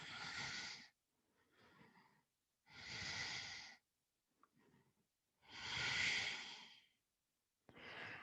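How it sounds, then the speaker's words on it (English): Slow, deep breaths during a held yoga pose, three long airy exhalations with softer inhalations between, close and quiet with no talking. "3 breaths here."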